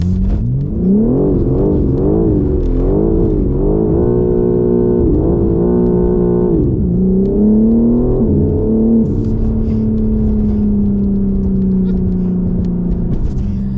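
A 2022 BMW M4 Competition's engine revs in a rising and falling series of loud pulls nearby, then settles into a long, steady drone.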